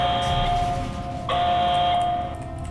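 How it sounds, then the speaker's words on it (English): An alarm buzzer in the game Portal Stories: Mel sounds as a loud, steady electronic tone in two long blasts separated by a brief pause, with no one talking over it. "what's the alarm?"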